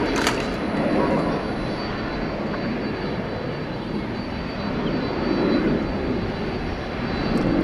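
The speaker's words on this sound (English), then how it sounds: "This one's going to Seattle, flight 2003, Airbus A321." Low, steady roar of an American Airlines Airbus A321 jet moving at DFW airport at night, a broad continuous engine rumble heard from a distance, with a voice talking over it.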